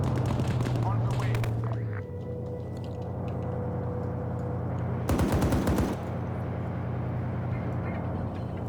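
Automatic weapon fire rattles in a video game, an opening burst followed by a second dense volley midway, with radio-style voices talking over it.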